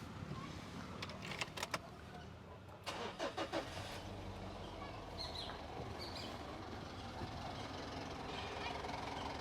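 A used Mitsubishi Pajero Sport's engine cranks over in a short burst of pulses, catches, and settles into a steady running rumble.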